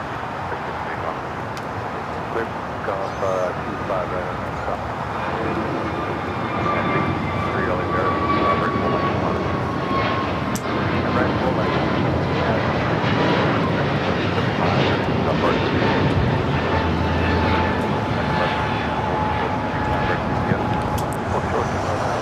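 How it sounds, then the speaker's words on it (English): An airliner bound for Phoenix takes off from LAX runway 25 Right, its broad jet roar holding steady and loud for the whole stretch, with a thin whine gliding across the middle range. Faint voices murmur beneath the engine noise. "We've got the flight heading to Phoenix now, taking off 25 at right."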